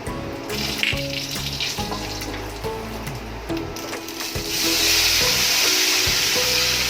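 Whole spices such as cardamom and mace, with turmeric and asafoetida, sizzle in hot oil for a charcoal-cooked matar paneer, a crackling fry over a low hum that swells into a louder, brighter hiss toward the end.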